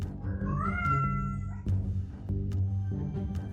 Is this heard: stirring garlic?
no